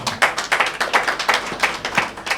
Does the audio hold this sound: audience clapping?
yes